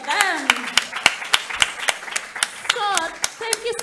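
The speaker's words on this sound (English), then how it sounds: "Let's clap hands for them." Sparse, distinct hand claps from a small conference audience applauding panelists, a loose uneven rhythm of sharp close claps heard under a person speaking.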